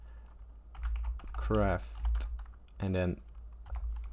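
Keys clatter on a computer keyboard as a command is typed into Minecraft, a quick run of close clicks running through the clip with someone talking over it at two points.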